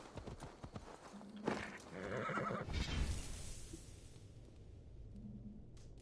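A horse whinnies in Assassin's Creed Valhalla, with hooves clip-clopping and some game ambience; the neigh stands out mid-clip before fading into quieter background sound.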